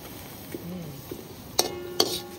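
Whole spices being sautéed in a pot for chicken biryani cooked outdoors, a spoon scraping and knocking against the metal a few times, two sharp clanks standing out over a faint sizzle.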